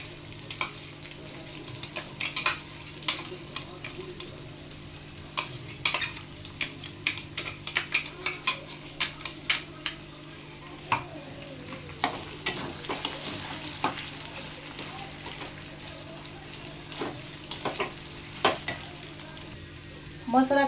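Ground chili paste sizzling with potatoes in a pan for a Marathi potato bhaji, stirred with a spoon: a steady close frying hiss broken by rapid, irregular clicks and scrapes of the spoon throughout.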